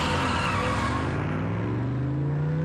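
Wheels of a vehicle in an animated Transformers episode spin without grip, a loud continuous whine and skid that slowly drops in pitch, with no voices over it.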